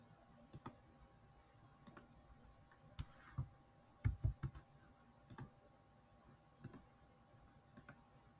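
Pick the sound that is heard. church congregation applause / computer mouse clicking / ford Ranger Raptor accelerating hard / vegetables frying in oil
computer mouse clicking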